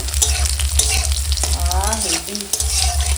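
Dry chilli, bay leaf and panch phoron sizzle loudly in hot oil while being stirred, a continuous crackling fry with scraping stir strokes, close up.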